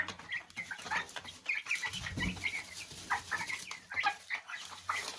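Several chickens cluck and chatter continuously nearby, with overlapping soft calls and occasional louder squawks.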